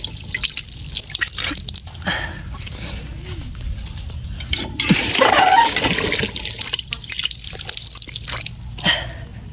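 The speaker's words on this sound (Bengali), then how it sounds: "তো চলো আগে মুখটা ধুয়ে নিই" Water splashes and drips as a face is washed outdoors, with intermittent trickling and a louder burst of splashing midway, close and fairly clear, no talk.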